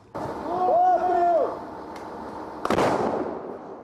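A Bohdana self-propelled howitzer fires from a hidden night position on the front line: one sharp, booming blast late in the moment, decaying quickly, after a few seconds of warbling tonal noise.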